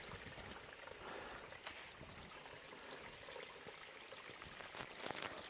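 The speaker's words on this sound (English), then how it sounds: "Pool, flowing water down into another little pool." Water flowing down a hillside into a small pool on the Trotternish Ridge on Skye, a soft continuous trickling and splashing stream, faint and close with no voices.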